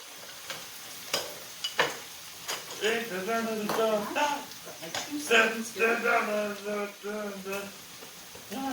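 Chopped green pepper and onions fry in a pan with a soft sizzle, punctuated by sharp stirring clicks at the start, while a voice talks over most of it.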